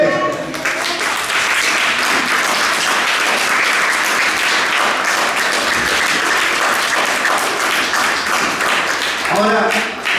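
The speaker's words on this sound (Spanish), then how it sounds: "dale un aplauso" Church congregation bursts into sustained applause and clapping during a Spanish-language sermon, loud and dense for about ten seconds, with voices mixed into the crowd noise.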